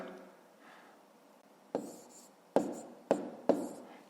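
A pen writes numbers for a long division problem on paper, with soft scratching followed by four sharper taps and strokes spaced about half a second apart. The sounds are close and quiet.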